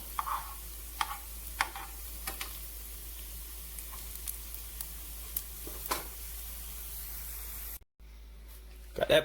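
Caramelized onions sizzle in a hot frying pan, a quiet, steady frying hiss dotted with sporadic pops and ticks before it cuts off abruptly near the end.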